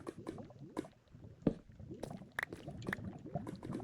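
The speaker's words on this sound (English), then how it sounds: "I'm hearing bubbling and popping noises. I feel like that's probably lava" Lava in Minecraft bubbling and popping in a cave, with a steady wet burble broken by scattered soft pops and one louder plop, fairly faint and with no voices.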